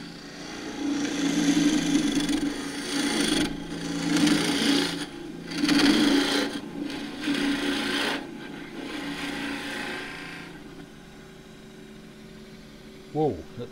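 A wood lathe turns a Huon pine tower box as a tool cuts and scrapes the spinning wood, making a rough, rasping sound in uneven passes. The cutting fades near the end, and a few light knocks follow.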